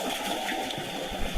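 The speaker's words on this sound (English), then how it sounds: "That's meant to be a waterfall." Steady rushing water from a small waterfall in cold outdoor conditions, a constant close hiss and splash with no break, heard alone.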